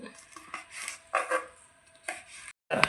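A knife chops two or three dried red chillies on a cutting board in a village kitchen, a series of close, irregular taps and short scrapes, then a brief pause and one more sharp chop.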